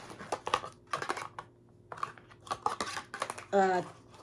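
Someone shuffles a deck of cards by hand in a quiet room, giving soft irregular flicks and taps that end in a brief, dense riffle.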